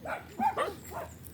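A dog gives a few short, close barks outdoors on the way to a resort in Don Victoriano, Misamis Occidental, and a voice murmurs faintly in the background.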